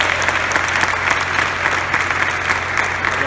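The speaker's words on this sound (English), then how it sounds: "big round of applause for our mayor, Mayor Bill Stogler." A crowd at a Sacramento press conference on a Major League Soccer stadium bursts into dense, sustained applause, a loud, even wash of clapping with a few cheers mixed in.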